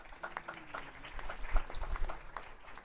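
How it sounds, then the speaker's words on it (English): Audience at a West Michigan panel event on human trafficking gives a modest round of applause, scattered claps rising slightly in the middle, fairly soft and distant. "So a round of applause if we could."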